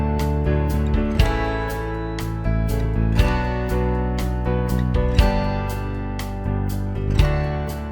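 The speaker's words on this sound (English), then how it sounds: "So that was a 1-5-6-4 progression." Guitar chords strummed in a 1-5-6-4 progression, four chords changing about every two seconds with strong rhythmic attacks, played alone and close with no talking.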